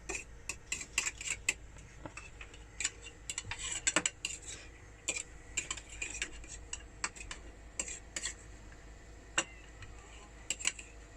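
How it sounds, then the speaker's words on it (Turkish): Eggs whisked in a bowl inside a camper van for an omelette: a rapid, uneven run of light clinking taps from a utensil against the bowl, fairly quiet and close, with no talking. "Güzel bunları da çırpalım."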